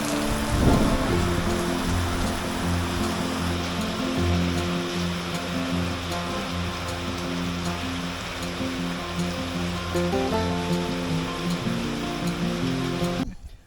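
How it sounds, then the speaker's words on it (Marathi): Heavy rain pours down in a dense, steady roar, loud and continuous throughout, with no voices. "जोरात येतोय आता पाऊस"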